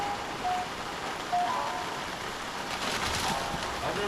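Steady, faint rain hissing softly and continuously, with no talk over it.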